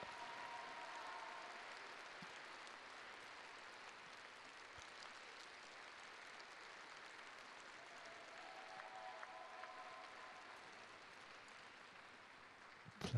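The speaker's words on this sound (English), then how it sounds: "Plenty of applause, and they deserved it." Applause from the arena audience following an ice dance rhythm dance at a figure skating Grand Prix event, a steady, fairly distant wash of clapping sustained for the full stretch with no talk over it.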